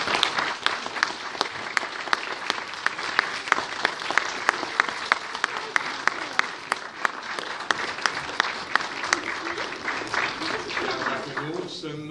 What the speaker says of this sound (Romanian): De v-a plăcut? Aplaudați!